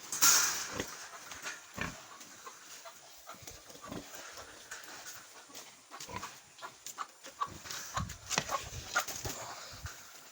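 Sows grunt and snort at feeding in a restless, uneven stream, with sharp squeals and clattering bursts breaking through, close by.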